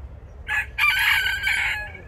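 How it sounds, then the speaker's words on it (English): A rooster crows loudly in Arroyo Grande, a long drawn-out cock-a-doodle-doo at moderate distance, over faint low background rumble. "I don't know if you can hear the chickens in the background,"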